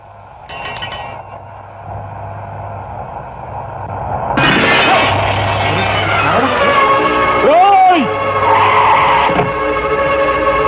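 A car in a comic Telugu film scene starts up with a loud rush and skids with a squeal of tyres, amid a bell-like ring early on and voices in the scene.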